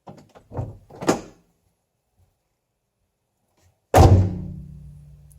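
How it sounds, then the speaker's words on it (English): The rear door of a Honda Element is handled with two quick knocks, then a pause, then a single loud, close slam that rings out briefly. "When I close the door, you'll see this panel kind of pop off."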